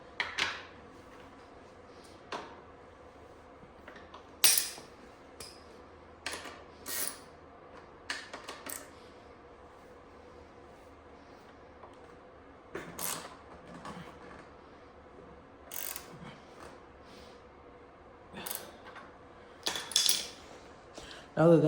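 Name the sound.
socket wrench tightening Sur-Ron axle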